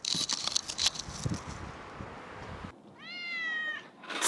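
Soft rustling and shuffling noises give way to a single drawn-out meow from a nearby cat.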